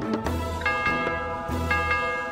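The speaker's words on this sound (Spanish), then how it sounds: "Ahí suena la campanilla" Chiming bell in the Age of Mythology game, a few bright metallic strikes ringing out one after another with sustained tones, clear and alone.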